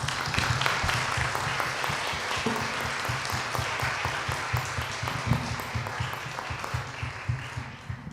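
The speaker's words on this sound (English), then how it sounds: "please let's give a warm round of applause for our panelists" A conference audience claps warmly for a panel of speakers at an information day, a dense, continuous wash of hands that fills the room without any talking.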